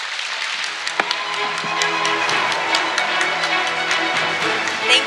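Applause rises from the audience at an international youth peace conference, clapping mixed with crowd noise and a few brief voice-like sounds, fairly loud throughout.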